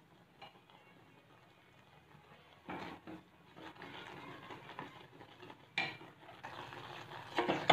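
A spoon stirring and scraping thickening khoya in a pan over a full flame, soft scrapes and occasional clinks of metal, close and quiet, growing busier toward the end.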